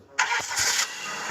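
A car engine in the Roblox video game cranks and catches with a sudden loud burst, then settles into a steady idle hum over about a second.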